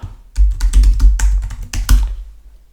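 A computer keyboard being used to enter a password, a quick burst of about ten crisp, close keystrokes with an uneven rhythm, then silence.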